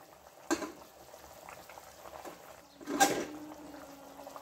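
Murrel fish gravy bubbles in a pot on the stove, with soft low simmering and faint liquid gurgles, punctuated by two brief louder splashes or stirs; quiet and close, no talking.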